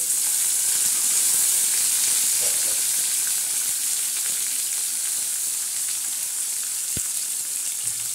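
Chopped onion frying in a pan for a stuffed okra and peanut dish, giving a steady, close sizzle with a low hiss throughout and one brief soft knock near the end.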